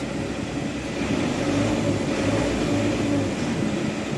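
A 2003 Japanese Kubota M90 tractor engine runs smoothly, a steady, close, low diesel drone holding even throughout with no talk.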